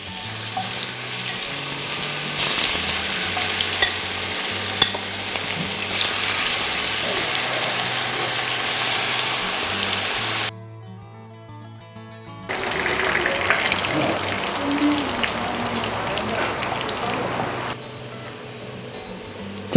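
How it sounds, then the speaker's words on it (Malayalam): Chicken pieces fry in hot sunflower oil, a loud continuous sizzle and crackle that briefly drops away to near silence before the busy bubbling returns with occasional stirring. "എണ്ണ നല്ല ചൂടായിട്ടുണ്ട്. നമ്മളതിലേക്ക് ചിക്കൻ ഇട്ട് കൊടുക്കുന്നു."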